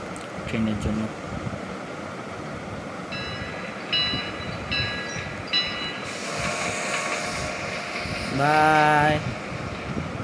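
A train in a video game rumbles past under steady background noise, with short beeping tones, a wide burst of clatter and a brief horn-like whoop near the end.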